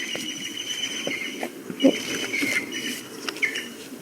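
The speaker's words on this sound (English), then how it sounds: "that's the green woodpecker calling" Green woodpecker calling in a UK garden near Pagham Harbour, with brief high calls and squeaks scattered over a few seconds against a faint outdoor background.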